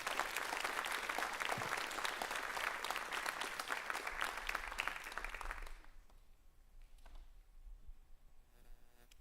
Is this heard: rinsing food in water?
no